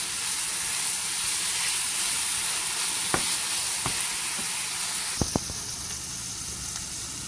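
Chicken sizzles steadily in a hot pan for hakka noodles, a constant close frying hiss broken by a few sharp clicks of a spatula against the metal.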